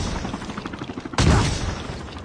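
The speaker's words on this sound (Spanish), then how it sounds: "Este dispara mucho rápido, ¿no?" Rapid gunfire in Call of Duty Mobile, a fast run of close, crackling shots followed by a louder burst that fades out.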